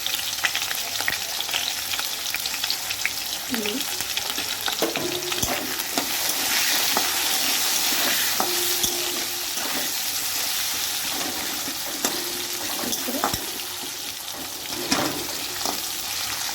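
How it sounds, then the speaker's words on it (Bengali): Potatoes frying in hot oil in a home kitchen, a loud continuous sizzle and crackle with occasional stirring scrapes and light clatter of utensils nearby. "তেলটা গরম হয়ে গেলে আমি আলুগুলো ভেজে তুলে নেব।"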